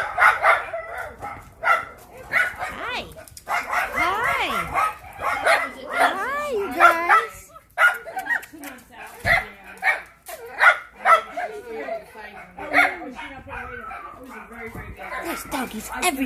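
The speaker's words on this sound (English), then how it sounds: "There's doggies everywhere." Several dogs bark, yip and whimper at an Italian Greyhound farm, repeated barks coming near and far in irregular bursts, mixed with someone talking over them.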